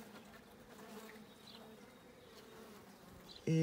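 Honeybees drone in a low, continuous buzz during an inspection of a horizontal hive, close and steady, with no talking and a sudden louder rise at the very end.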